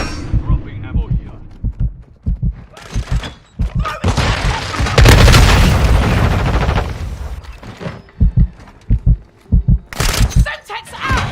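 A Semtex grenade blast in Call of Duty: Modern Warfare 2, a loud booming explosion with a long rumbling roar amid rapid gunfire and impacts, with voices calling out in the game.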